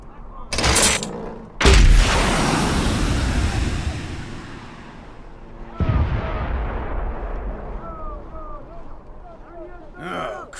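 Mortar fire in a training drill, with a sharp blast followed by a heavier booming impact that rolls out into a long fading rumble, then another thud and decaying echo, with voices talking alongside the firing.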